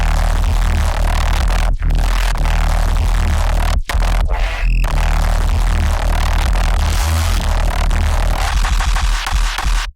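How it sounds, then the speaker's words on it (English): Synth bass part from a dance music demo track playing solo, loud and continuous with a driving pulse and a couple of brief dropouts. "this is what the bass sounds like on its own."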